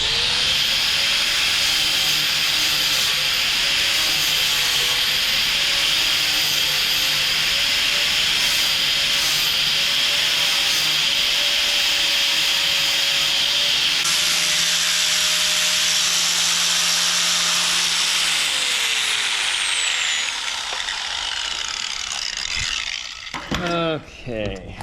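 Angle grinder working a welded seam on a 1967 Chevelle trunk lid: a loud, sustained high-pitched grinding whine with wavering pitch as the disc moves side to side, which winds down near the end.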